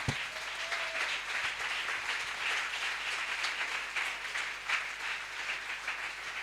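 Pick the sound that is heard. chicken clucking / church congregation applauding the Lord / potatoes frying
church congregation applauding the Lord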